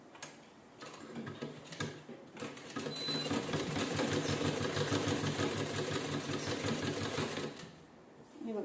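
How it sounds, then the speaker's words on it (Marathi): A sewing machine stitches canvas in a close, fast, even run of mechanical ticking that starts, holds steady for several seconds and then stops. "आता याच्याने शिलाई करूया, म्हणजे जिथं ओपन आहे तिथं ओपन आतल्या साईडला घालूया आणि शिलाई करून घेऊया."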